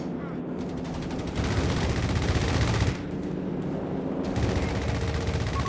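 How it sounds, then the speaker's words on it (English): Strafing-run gunfire in the video game Company of Heroes 3 pours out in dense, continuous bursts, swelling louder midway and then carrying on as a steady barrage to the end. "Now the strafing run here from Charlotte."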